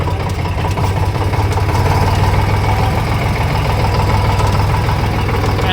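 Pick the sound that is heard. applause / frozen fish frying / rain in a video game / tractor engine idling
tractor engine idling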